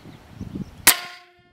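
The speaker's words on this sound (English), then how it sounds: "I'm gonna shoot it with an Aeromagnum round" A Benjamin Bulldog airgun fires a single Aeromagnum Devastator .357 round into a watermelon, a sharp loud crack with a short ringing tail after quiet handling noises.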